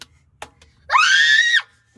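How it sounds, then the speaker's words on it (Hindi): A child lets out a single loud, sustained scream lasting under a second, preceded by brief faint sounds and followed by quiet, with no talk over it. "चीखे क्यों मार रहा है? मेरे कान फाड़ दिए।"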